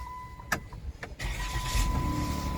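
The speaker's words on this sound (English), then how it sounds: "This time the car will start." A 2008-2013 VW Routan engine starting after a WIN module replacement: a couple of clicks and a brief cranking whir, then the engine catches and settles into a steady close idle with a faint electronic chime running underneath.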